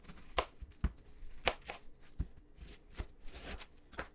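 A knife chops an onion on a cutting board, giving a series of crisp, fairly close, irregularly spaced cuts with no talk over them.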